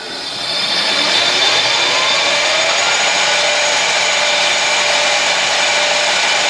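A steady, loud whirring hiss of a Scotch-Brite pad polishing a spinning pen blank on a lathe after sanding, rising at the start then holding constant.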